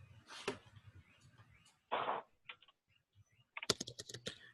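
Someone types on a computer keyboard during an online meeting, a few faint, scattered key clicks and short bursts of tapping with pauses between them, close and quiet.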